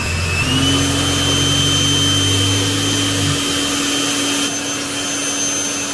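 Leaf blower driving a foam machine attachment with its pump running, a loud steady motor roar and whine that holds constant, with one tone dropping away partway through.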